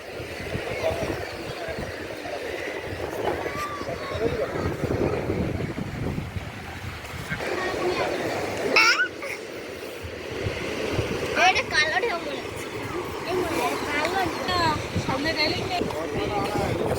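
Wind buffets the microphone at Bhorsagar sea beach in Digha as waves wash in steadily, a broad rushing roar with a voice speaking over it.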